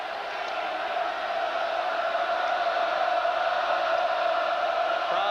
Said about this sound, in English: Crowd here at Cameron getting back into it.